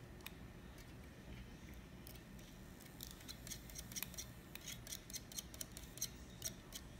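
Small scissors or cutters snip thin vape coil wire during a twisted coil build, a series of faint, sharp clicks that come quicker toward the end over a low, quiet background.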